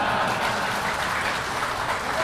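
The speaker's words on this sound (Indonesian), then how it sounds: "Jangan dulu tepuk tangan" A seated audience at an Indonesian religious talk for police breaks into applause, a continuous, fairly distant wash of clapping with a low crowd rumble beneath it.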